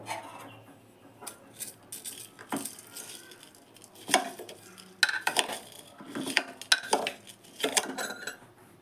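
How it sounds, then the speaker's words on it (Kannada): Gooseberry pieces tossed with salt in a jar clatter and scrape in irregular bursts, with close spoon-on-container knocks and rattles that grow busier toward the end. "ಅದಕ್ಕೆ ಸ್ವಲ್ಪ ಅರಳುಪ್ಪು ಹಾಕಿ ಕಲಿಸ್ತೀನಿ."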